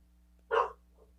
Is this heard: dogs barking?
yes